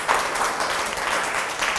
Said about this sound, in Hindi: एक ताली।